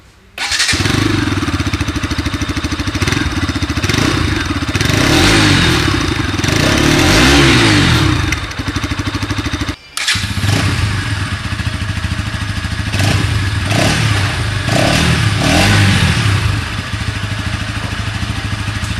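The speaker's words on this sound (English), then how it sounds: "let's check out the exhaust notes of both of these bikes back to back" A 2020 BS6 Pulsar RS200 engine starts and revs repeatedly, its raspy exhaust rising and falling, then briefly cuts out before a BS6 Pulsar NS200 revs in bursts.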